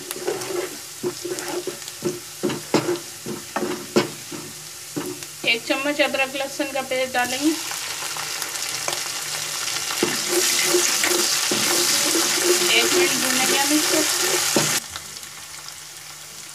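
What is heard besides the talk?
frying spices in a pan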